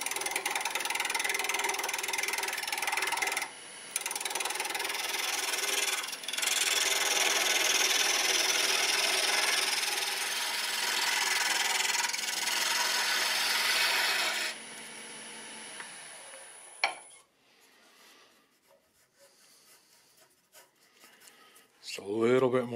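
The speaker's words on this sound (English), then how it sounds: "I'm going to be using the Easy Wood Tools number 1 hollower, just over 1200 RPMs." An Easy Wood Tools number 1 hollower takes light cuts from wood spinning on a lathe at just over 1200 RPM, making a steady, close scraping roar that stops abruptly near the end, followed by faint knocks.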